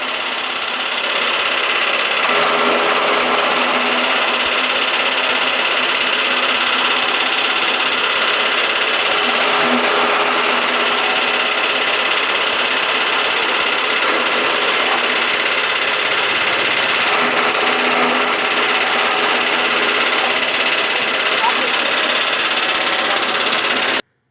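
A Kovai Classic chaff cutter machine running continuously nearby, a loud steady mechanical drone with a whirring hum and even grinding texture throughout, without pause or speech.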